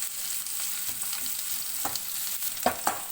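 Thinly sliced onion frying in oil in a pan, a soft steady hiss with a few brief spoon scrapes and clinks near the end, close but fairly quiet.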